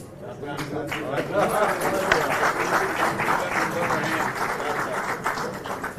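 Applause welcomes a guest onto the stage at a student tribute event honouring martyrs, loud, dense clapping from a large audience sustained for several seconds, with crowd chatter mixed in.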